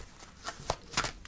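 Tarot cards being shuffled by hand before a card is drawn, a series of quick riffling bursts, close and fairly loud with no talk.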